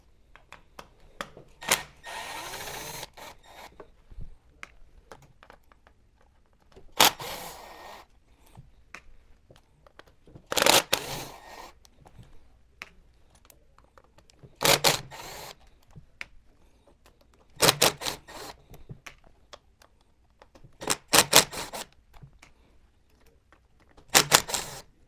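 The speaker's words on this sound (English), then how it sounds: "Then you just have to undo all these screws" A power tool backs screws out of DJI Agras T40 drone modules in short whirring bursts, about seven spaced runs over quiet gaps, close and moderately loud with small handling clicks between.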